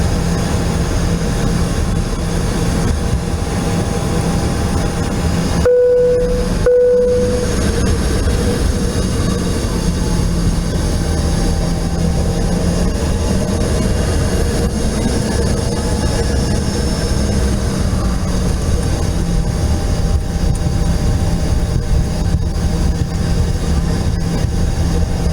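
An Embraer E145 regional jet's engines roar loudly and steadily during takeoff, heard from inside the cabin as a dense continuous drone with a brief gap early on.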